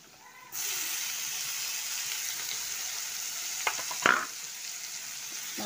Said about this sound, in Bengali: এই সবজিগুলো দিয়ে দেবো।